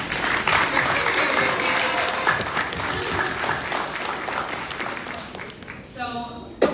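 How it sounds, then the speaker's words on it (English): An audience at a university presidential debate gives a round of applause, dense steady clapping that fills the whole stretch and tapers near the end. "Maybe give them a round of applause."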